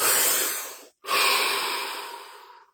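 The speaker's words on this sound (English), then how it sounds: "3 deep breaths followed by 15 seconds of absolute stillness and silence." Two long, deep breaths close to the mic, a slow airy inhale or exhale, a short pause, then another full breath fading gradually, no talking.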